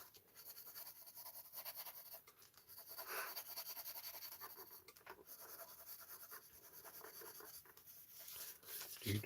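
Graphite pencil shading across paper at close range, a steady soft scratching of strokes back and forth that runs continuously with brief pauses between passes.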